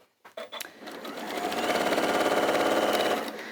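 A sewing machine stitching the side seams of a bag runs at a steady, rapid chatter after a few brief clicks and handling knocks, the motor's hum holding level and close.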